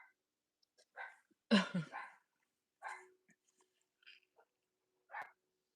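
A dog in the background gives several short, faint barks and yips spread out over a few seconds in a quiet indoor room, with one louder cluster near the middle.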